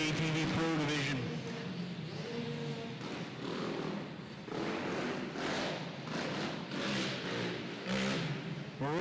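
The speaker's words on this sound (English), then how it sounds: "we've got our Super Mini riders lined up and they are ready to roll" Super Mini racing machines rev at a dirt track race at night, a loud, wavering chorus of engines rising and falling in pitch from several bikes lined up together, with crowd noise and announcing mixed in.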